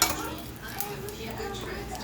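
A spatula scrapes and knocks against a pan while an omelet is scooped and flipped, with light clinks of metal and a faint sizzle under a soft voice.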